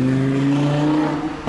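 A car drives past on Wilmersdorfer Straße in Berlin-Charlottenburg, its engine giving a steady, fairly loud hum that holds for about a second before easing off, with no talk.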